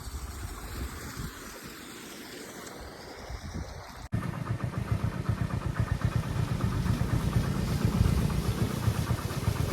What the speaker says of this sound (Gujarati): મોટર ચાલુ થઈ ગયું છે આ બાજુ